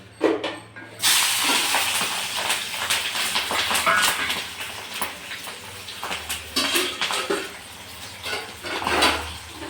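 Cut green chillies hit a hot pan and sizzle loudly, starting with a sudden hiss that settles into a steady crackling fry with occasional scrapes against the pan.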